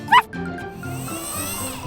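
A single short, high yip from a puppy, followed by soft background music with sustained tones.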